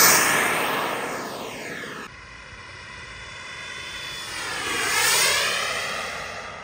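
Turbine jet engine on an RC model Avanti airplane, a loud steady whine that shifts pitch as it passes, swelling toward the end with no talk.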